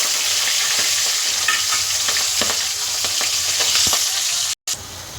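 Two fish heads frying in hot oil in a pan: a loud, steady close sizzle with occasional scraping and turning clicks, then a brief dropout near the end before the sizzle resumes.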